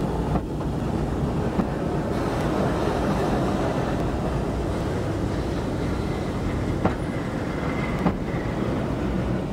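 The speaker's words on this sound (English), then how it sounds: "A stopping passenger train pulls into a small rural station." A steam passenger train rumbles steadily as it rolls slowly into a small rural station, with low mechanical chugging and a few sharp clanks and hisses, no voices.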